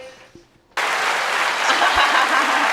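After a brief quiet moment, a burst of clapping applause starts abruptly and holds at an even, full level to the end.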